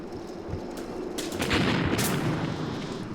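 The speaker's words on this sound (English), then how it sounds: "Keep up that mortar fire, men" Mortar and machine-gun fire in the Graviteam Tactics war game: a dense run of rumbling battlefield bursts with a few sharper blasts standing out near the middle.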